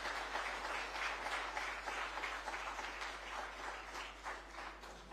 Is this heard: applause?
yes